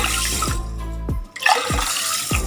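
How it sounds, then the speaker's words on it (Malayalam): Water pours from a cup into a pressure cooker holding roasted mung beans in a few separate splashing pours, close and clear, with brief pauses between them. "ഈ പയറിലോട്ട് നമുക്ക് ഒരു 3 കപ്പ് വെള്ളം ഒഴിച്ചു കൊടുക്കാം"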